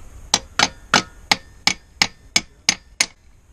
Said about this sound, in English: A few taps under here.